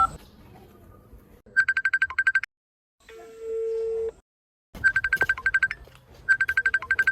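Outgoing call on a mobile phone: bursts of a trilling electronic ringtone repeat in loud pulsed groups, broken by a pause and a brief steady tone.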